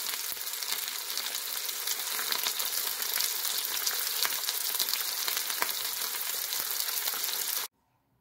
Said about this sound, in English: I've got my little frying pan with refried beans here.